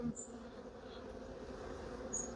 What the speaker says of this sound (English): The problem with it being a hive full of flying bees is that all the bees that you meet are the grumpy ones.